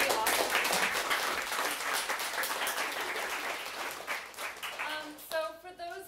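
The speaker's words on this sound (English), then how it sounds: "please give a round of applause for our three awesome" Audience applause for three presenters at a career-path talk and networking event, a broad wash of clapping that fades toward the end, where a voice begins speaking over it.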